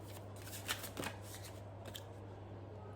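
Tarot cards shuffled by hand for a reading, giving a few soft, close riffling and flicking bursts over a low steady hum.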